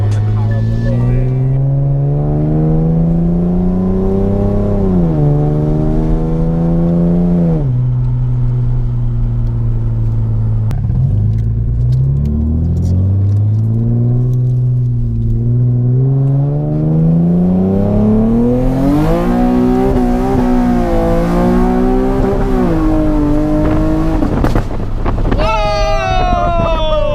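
A loud Nissan 370Z engine warming up, revving in long rising and falling sweeps with a strong droning tone, very close and dominant the whole time.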